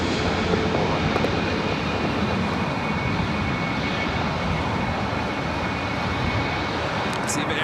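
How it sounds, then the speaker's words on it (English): An EVA Air jet airliner touching down at LAX makes a loud, dense, steady roar of engines and rushing air, close and continuous throughout, with a voice faintly present beneath. "Eva Air Flight 12 coming up from Taipei, touching down."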